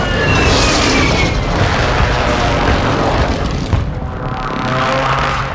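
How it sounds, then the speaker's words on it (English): An air strike explosion in Call of Duty: Modern Warfare II, a loud, sustained roaring boom with rumbling debris that fills the whole stretch, dense and close with no clear talking over it. "visual on the target, strike inbound."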